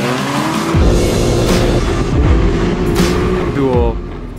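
Can-Am Maverick off-road vehicles on a rally run across Poland toward Masuria, engines roaring and revving loudly up close, with rising and falling pitch as the machines pass and tires scrub on the surface.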